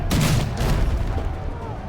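A ship's cannon fires during a boarding battle in Risen 3: Titan Lords, two heavy booming blasts in quick succession with a rumbling tail, loud and close.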